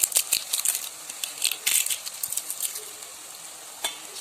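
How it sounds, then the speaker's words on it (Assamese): Bay leaves, garlic and onion fry in hot oil with a close, crackling sizzle, broken by quick stirring scrapes that come in bunches and then thin out near the end. "অকণ ৰঙচুৱা হোৱালৈকে আমি এইখিনি ভাজি থাকিব লাগিব"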